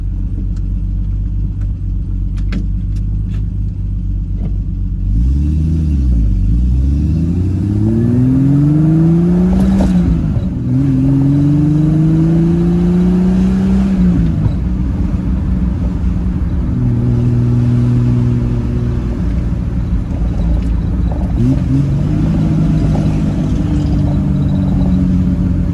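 A Triumph TR6 sports car with a tall rear end accelerates hard, its engine rumbling loudly and rising in pitch through several gear changes, with strong low drone throughout and no speech over it.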